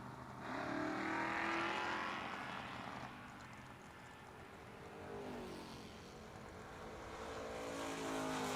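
Drag race cars, among them a purple Camaro, launch at a footbrake drag strip with a loud engine roar that swells, fades and builds again as the cars accelerate away into the distance.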